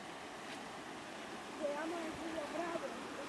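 The strong current of the Agua Brava river flows steadily in the background, a broad constant wash of sound, with faint voices and tones occasionally rising above it.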